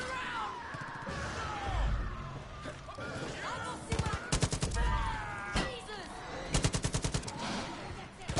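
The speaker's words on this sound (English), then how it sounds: "Some of the snipers are at work already." Sniper and gun shots crack in Far Cry Arcade, sharp bursts in rapid clusters over a busy game soundscape, with a faint voice at times.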